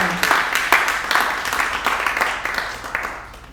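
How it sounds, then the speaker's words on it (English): Audience applause after an improvised folk song at a classical Black folk song concert, a dense wash of clapping that gradually fades over a few seconds. "Give another round of applause for Julian for that."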